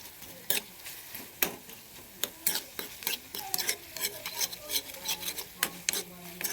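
Onions and tomatoes sautéing with turmeric powder in a pan for a mackerel curry, a soft sizzle beneath repeated scraping and clinking stirring strokes at an uneven rhythm, close by.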